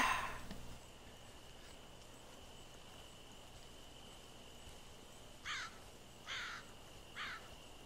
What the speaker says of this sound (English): that was definitely a bird there